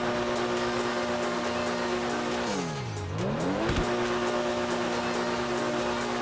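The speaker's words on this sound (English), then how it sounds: "we're gonna take a listen to what the engine sounds like in here" Comet sports car engine in GTA Online, turbocharged, revving steadily then dipping and climbing through a gear change with a loud, continuous drone and a brief sharp transient, no talk.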